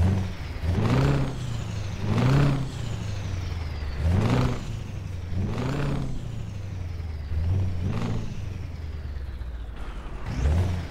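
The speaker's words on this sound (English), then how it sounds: "That is the sound of a Scania V8 engine." A Scania V8 truck engine in Euro Truck Simulator 2 revs repeatedly, rising and falling in roughly five loud, rhythmic bursts over a deep idling rumble.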